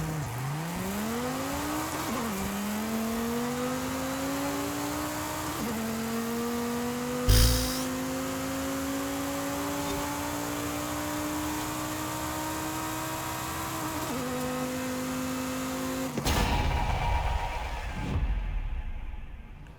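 A muscle car in Forza Horizon 5 roars through a drag run, its engine pitch climbing steadily through several gear changes, with a brief sharp knock partway and a louder burst near the end before cutting off.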